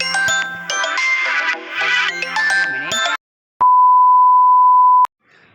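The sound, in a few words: incoming phone call ringing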